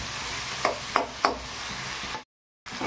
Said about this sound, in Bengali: এইভাবে কিছুক্ষণ কষিয়ে নিই।